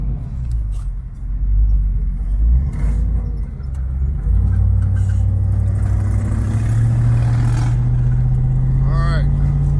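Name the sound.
Foxbody Mustang with AOD automatic transmission driving on freeway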